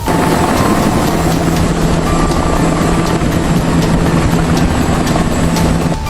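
A helicopter roars steadily overhead, its loud, continuous rotor and engine drone filling the whole stretch without a break.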